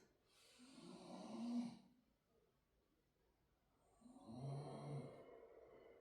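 Snoring from a person resting during a lower-body mobility session, two long rumbling breaths in a quiet room with a soft gap between them.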